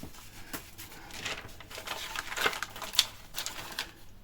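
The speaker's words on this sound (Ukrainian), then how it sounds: "Що ж так гидко маркер пише?" A marker pen scratches across a surface in short, uneven strokes at close range. The sound is faint and dry, with light background noise.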